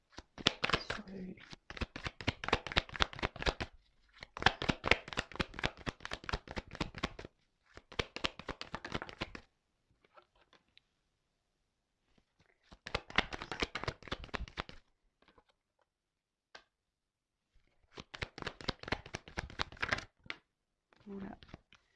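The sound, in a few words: tarot cards being shuffled and drawn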